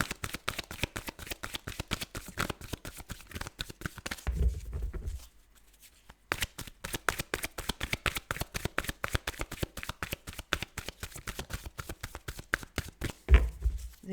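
Tarot cards being shuffled by hand, a rapid, even ripple of crisp flicks that runs steadily, breaks off briefly midway with a soft thump, then resumes at the same brisk pace, close and fairly quiet.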